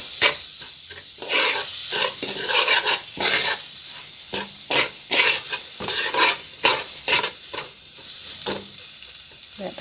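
Butter or margarine sizzles in a pan with toasting quinoa, a steady hissing fry broken by repeated rhythmic scrapes and clatters of stirring.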